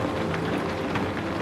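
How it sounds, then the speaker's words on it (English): Steady rain falling, a dense, even hiss of drops spread evenly across the short stretch with no pauses, soft and continuous. "And the sound of rain"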